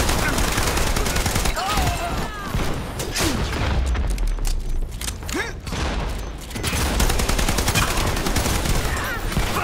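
Rapid gunfire bursts and booms from the Dirty Bomb shooter, rounds striking a deployable shield on the Underground map, dense and loud throughout with a voice talking over it.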